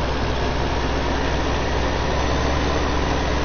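Steady tractor engine idling from the Farming Simulator 15 game, a continuous low rumble with an even drone throughout and no talk.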